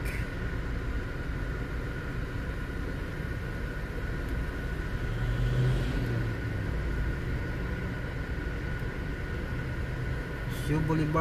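City traffic on Shaw Boulevard in Mandaluyong hums steadily as a low, continuous rumble of engines around a vehicle, with brief swells of passing cars.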